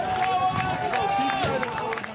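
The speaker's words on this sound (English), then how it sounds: "they get just a little bit of the Arlington crowd getting wild at the start of the second half" An Arlington home crowd at a high school boys' varsity soccer game against Newton South gets rowdy at the start of the second half, with a brief burst of cheering and shouting mixed with nearby voices.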